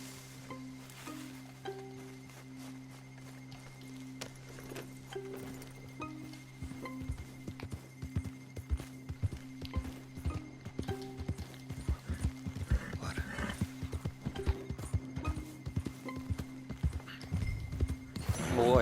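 Horse hooves clip-clopping on the ground in Red Dead Redemption 2, with a horse neighing; steady, growing hoofbeats dominate the second half and get louder toward the end, over a low background tone.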